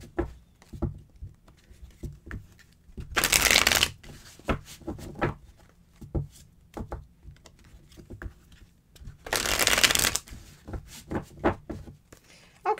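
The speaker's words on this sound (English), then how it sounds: "Shuffle these up a little bit." Tarot cards are shuffled by hand in two loud, dense riffling bursts, separated by softer card handling and light taps.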